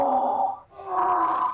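A Minecraft donkey gives a two-part braying call, a drawn-out tone followed by a brief dip and then a second, slightly higher tone, loud and close with nothing else around it.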